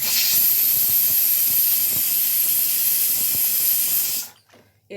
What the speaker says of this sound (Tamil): 3 விசில் வந்துடுச்சு, இன்னொரு விசில் வந்ததும் ஆஃப் பண்ணிடலாம்.